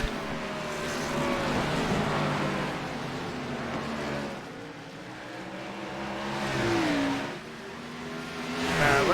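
Race cars of the SOMO Series lapping at Richmond, engines droning loud and close with rising and falling whines as cars pass and accelerate, swelling again near the end.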